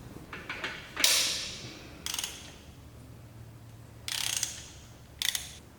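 A ratchet wrench loosens the girdle bolts on a Nissan SR20 engine during a full teardown, giving short bursts of quick clicking at close range, separated by quiet gaps, with no talking.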